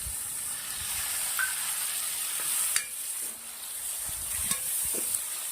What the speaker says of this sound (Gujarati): આદુ મરચાં લસણ ડુંગળી સરસ શેકાઈ ગયા છે તેલના અંદર હવે નાખશું ટામેટા